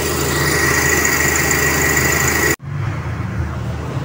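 A Nissan Serena 2000 with a carbureted 3E engine and automatic transmission idles at about 750 RPM, a steady, loud, close mechanical hum with a brief abrupt cut before it resumes.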